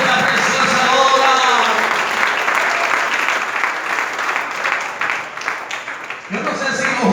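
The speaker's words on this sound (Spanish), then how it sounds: "Regale una fuerte ofrenda de palmas al Señor esta preciosa hora" A church congregation claps loudly and steadily for several seconds, a dense wash of applause with a voice speaking over the start, briefly thinning before a fresh burst at the end.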